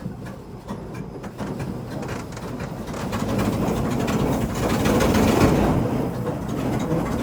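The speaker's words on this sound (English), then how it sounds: "So these belts bring the fertilizer back and it runs into these and it spreads it." Belts on a C60 Viking fertilizer spreader run off the tractor PTO, giving a steady close mechanical rumble with rapid rattling clicks that swell slightly louder midway and keep going without pause.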